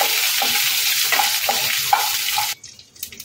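Washed curry leaves drop into hot oil in a pot for South Indian sambar dal, setting off a loud crackling sizzle with sharp pops that cuts out abruptly near the end, leaving faint kitchen clatter.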